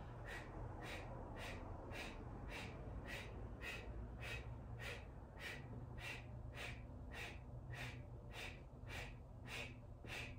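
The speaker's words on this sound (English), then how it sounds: "And then keep breathing." Deep rhythmic breathing during Kundalini yoga, quick forceful breaths repeating about every half second in a steady pulse over a low drone of background music, with no talking.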